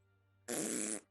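A voice imitates a fart during a tabletop role-playing session, one short, buzzy, sputtering blast of about half a second, close and loud against a quiet background hum.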